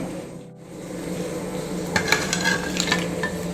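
Pieces of tuna are tipped into a simmering roasted-coconut curry in a pot. A low bubbling hiss runs throughout, with scattered soft clinks and scraping near the end and no voices.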